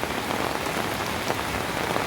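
Steady rain falling on a surface during flooding along a river in Montalban, Rizal, a continuous dense patter with no pauses, fairly close and even in loudness.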